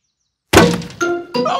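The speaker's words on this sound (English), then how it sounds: "who's throwing footballs at my greenhouse?" A cartoon football thuds hard against a greenhouse, a sharp loud whack followed by a glassy ringing knock and a second rattling hit, with no voices.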